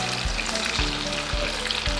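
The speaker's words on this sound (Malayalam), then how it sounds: "ഇനി നമുക്ക് റെസ്റ്റ് ചെയ്ത ചിക്കൻ എടുത്ത് നമ്മുടെ ചൂടായ എണ്ണയിലേക്ക് ചിക്കനെ അങ്ങോട്ട് ഇട്ട് പൊരിച്ചെടുക്കാം." Chicken for chicken kondattam frying in hot oil, a steady close sizzle and crackle throughout, with a low thump that recurs roughly every half second as pieces are stirred or dropped in, and no talking.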